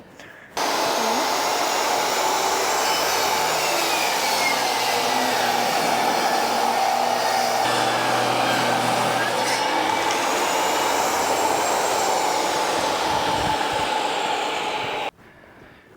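A power saw rips continuously through 2x4 lumber to take off the rounded edges, a loud, steady whine of about fifteen seconds that starts and stops sharply.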